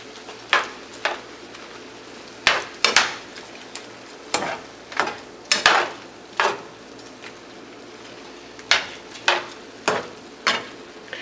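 Butter is stirred into garlic shrimp in a pan, with about a dozen sharp utensil scrapes and clacks at an irregular rhythm over a soft, steady background.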